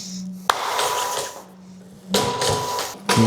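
A redesigned 3D printed jacquard loom mechanism runs, driven by fewer motors under Arduino control. Close mechanical whirring comes in bursts, punctuated by a sharp clack and brief rattling.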